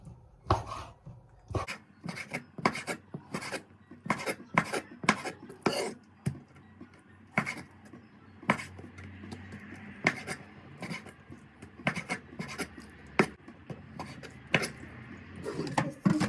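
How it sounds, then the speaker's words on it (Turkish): Rapid knife chopping vegetables into cubes on a cutting board, a steady run of sharp thuds and taps repeating quickly, close by, with no talking. "Şimdi hemen bunları küpler halinde doğrayayım hızlı hızlı ben."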